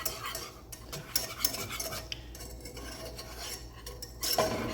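A utensil scrapes and clinks in a pot as a flour mixture is whisked and thickens, making irregular metallic stirring taps and swishes up close.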